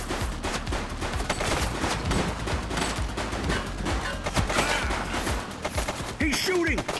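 A sustained exchange of gunfire in the police video game The Precinct, dense rapid cracks and bursts rattling on for several seconds, loud and close, with a short voice near the end.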